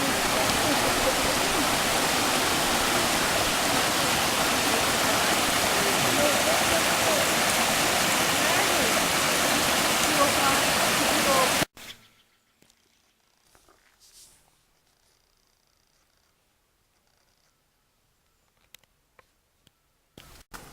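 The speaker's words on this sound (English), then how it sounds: "We have another waterfall" Steady broadband rushing of a waterfall in Benton County, loud and continuous for about eleven seconds before cutting off abruptly to near silence with a few faint sounds.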